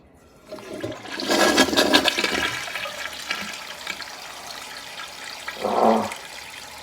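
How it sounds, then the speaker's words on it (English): A toilet flushes with a loud rushing swirl of water that peaks early, then drains and trails into a quieter refill hiss, close by with no talking. "Now flush it"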